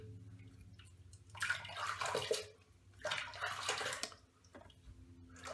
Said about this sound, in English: make sure you can rinse off your face